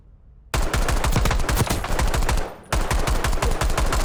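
Rapid automatic rifle fire from Black Ops 6 with a Boiling Point blueprint: a loud, dense stream of shots that starts abruptly, pauses briefly, then resumes, close and alone.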